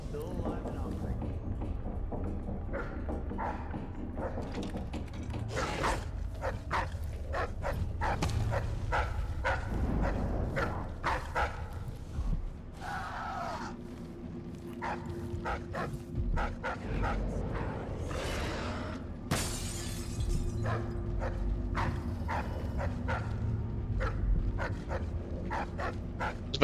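Dog in the video game Dishonored 2 barking and whimpering in repeated short yips over ambient game sound, with someone talking at times.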